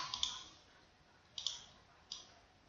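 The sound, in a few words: clicking mouse and keyboard arrow keys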